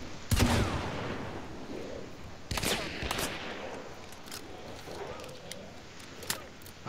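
Sharp gunshots crack out sporadically in the game Hunt: Showdown, one loud burst early then another, followed by scattered lighter shots over a faint background.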